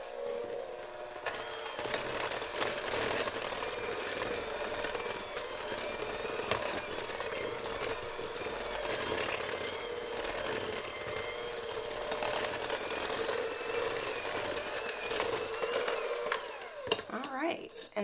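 An electric mixer beats Toll House cookie dough in a bowl at a higher speed, a steady loud whirring drone that runs unbroken throughout, ending with a brief clatter at the close.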